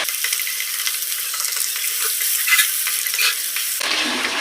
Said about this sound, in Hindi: हम चिकन को तब तक फ्राई करेंगे जब तक इसका कलर जो है वो चेंज नहीं हो जाता।